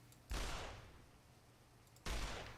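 Enemy gunfire in Fallout New Vegas, two separate heavy bursts of shots about two seconds apart, each with a booming onset and a trailing decay, fairly distant and muffled.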